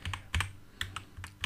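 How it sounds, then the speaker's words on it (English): Computer keyboard arrow keys pressed while scrolling through recent strings in the Arduino serial monitor: about six or seven light, close plastic clicks in quick uneven taps, alone without talk. "You just press the up and down arrow keys on your keyboard"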